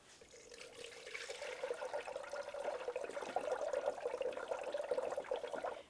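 Orange coolant pours steadily into the coolant reservoir of a 2009-2019 Ford Flex during a radiator replacement, a continuous close liquid gurgle and splash lasting several seconds with no talk.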